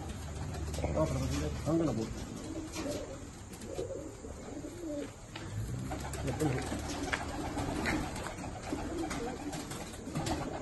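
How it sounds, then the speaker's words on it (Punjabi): Malwai pigeons coo repeatedly in a loft in the USA, soft rolling calls close by, while people talk over them for much of the time. "ਇਹ ਬਾਈ ਜੀ ਕਬੂਤਰ ਹੈਗੇ"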